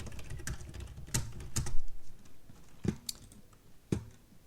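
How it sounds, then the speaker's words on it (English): Keys clatter on a computer keyboard in short bursts of typing, with a few sharper, louder strokes standing out, close and clear with no talking. "I'll manually type in permanent staff."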